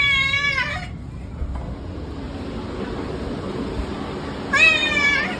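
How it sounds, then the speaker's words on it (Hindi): A black-and-white cat meows twice, a wavering cry at the start and another near the end, over steady background noise, with faint indistinct voices. "ये आ गए हमारी गोरी बिल्ली, काली गोरी, इसको दूध डाल लेंगे"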